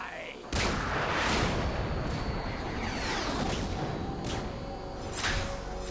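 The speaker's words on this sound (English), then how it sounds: "There's like a trillion billion missiles" Missile barrage in the video game Metal Gear Solid 2: a sudden loud onset of dense, continuous explosions and rumbling blasts with sharp cracks layered on top, sustained to the end.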